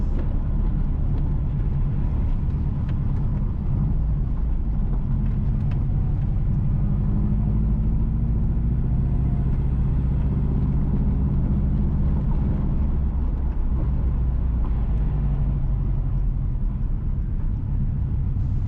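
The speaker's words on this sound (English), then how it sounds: "Currently, we are driving northwest from Jointwood towards Eldersley." Car driving on a rural road from Jointwood towards Elderslie in St Elizabeth, Jamaica, heard as a loud, continuous low engine and road rumble from inside the vehicle, steady throughout with no voices.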